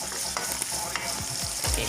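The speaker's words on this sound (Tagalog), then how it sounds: "Maglagay ang bawang at sibuyas." Garlic and onion sizzle steadily in a hot pan while ginataang tilapia is being prepared, with a few scraping stirs cutting through the continuous frying hiss.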